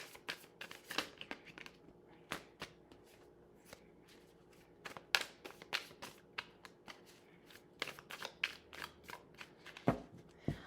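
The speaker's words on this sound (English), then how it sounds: "let me get a real good shuffle here." Tarot cards are shuffled by hand close to the microphone, a quick run of crisp riffling snaps and soft slides in irregular bursts. The sound is fairly quiet, with no talking.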